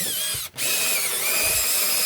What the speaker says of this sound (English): Let me drill this back down.